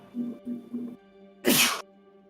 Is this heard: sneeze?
yes